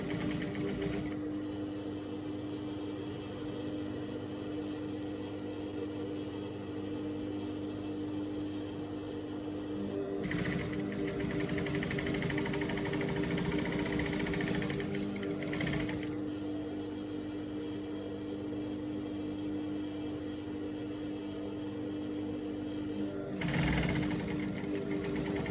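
A sewing machine runs in long steady bursts while top stitching a straight leg pant, humming and whirring close up with two brief pauses and no voices.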